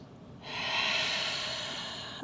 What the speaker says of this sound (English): Take a deep inhale through your nose and exhale through the mouth.